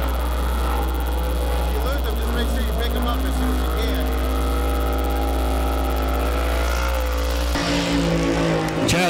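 IMCA stock car racing a qualifying lap at Arizona Speedway, its engine droning loud and steady with a rising, shifting pitch, then abruptly cutting to a rougher, quieter note near the end, with an announcer talking over it.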